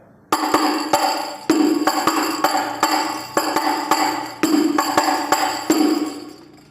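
Terbang frame drum played with reginci strokes in the third part of the tikah rhythm, a close, loud run of crisp taps broken by resonant deep hits in a regular cycle.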